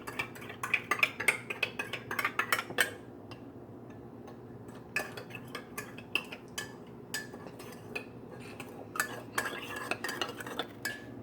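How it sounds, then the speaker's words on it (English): Pancake batter ingredients mixed in a bowl, a rapid run of clicking, tapping strokes of a utensil against the sides, coming in bursts with short pauses, close and fairly quiet. "what we're going to do here is mix the ingredients. Mix them fairly well."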